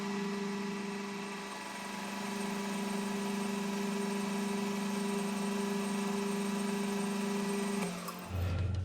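A metal part spun around and held in a collet on a lathe, machined to finish its back end; a steady, loud motor drone with a strong low tonal hum runs throughout, dropping off near the end as the machine winds down.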